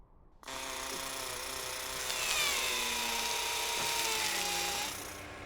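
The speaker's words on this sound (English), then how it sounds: "The drill on the arm allows us to grab some of that rock" The Mars Curiosity rover's arm drill whines in a steady, loud, high-pitched grind with shifting tonal sweeps, running continuously for several seconds on its own before tapering off.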